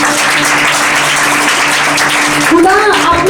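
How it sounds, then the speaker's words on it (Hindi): A church audience breaks into sustained, loud applause that continues throughout, with a voice calling out over it near the end. "ताली बजा देंगे"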